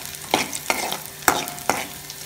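Shallots and garlic frying in oil in a pan, stirred with four distinct scraping strokes at a steady rhythm over a continuous close sizzle; no voices.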